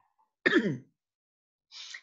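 Single throat clearing followed after a pause by a shorter breathy rasp, both close and alone in an otherwise quiet room.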